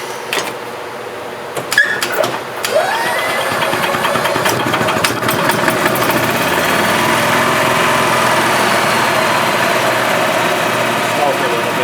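A 2010 EZGO RXV gas golf cart engine cranks and catches after a few clicks, then settles into a steady, loud, buzzing idle that runs on unbroken.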